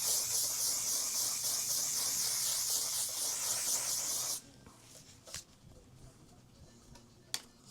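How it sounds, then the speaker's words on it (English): Makeup setting spray misted from a bottle: a continuous pulsing hiss for about four seconds that cuts off abruptly, then quiet with a couple of faint handling clicks. "for the last step, you guys know we need some setting spray."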